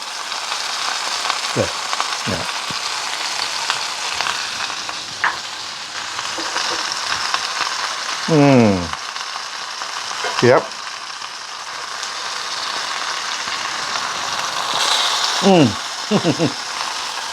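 A rib-eye steak fries steadily in a pan with a constant sizzle, while spoon scrapes and clinks recur as it is basted, a few sharp metallic strokes standing out.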